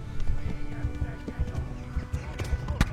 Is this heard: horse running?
yes